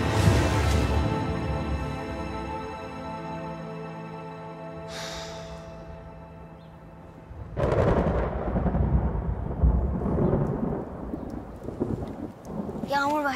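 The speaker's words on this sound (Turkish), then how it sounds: "Yağmur başladı, ısınırız burada ya." Rain and rumbling thunder during a Turkish drama scene, starting as a steady downpour, then swelling into a louder, closer burst of storm noise partway through, with a voice briefly heard toward the end.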